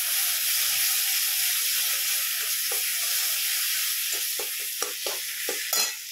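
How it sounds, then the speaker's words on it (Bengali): Tomato sautéing in a pan gives a constant hissing sizzle, with spatula strokes and taps growing more frequent toward the end, close up and with no talking. "টমেটোটা একটু কষিয়ে নিচ্ছি"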